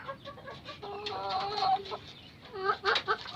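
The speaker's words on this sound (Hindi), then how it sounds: "ये वाइट बैंटम है" White bantam chickens kept on a rooftop cluck in short nasal bursts, a few near calls rising over a faint background.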